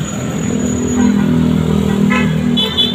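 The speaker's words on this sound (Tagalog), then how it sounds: "Ayan, mga sasakyan, traffic." Steady road traffic with idling and passing car and motorcycle engines, broken by a couple of brief horn toots near the end, no one speaking over it.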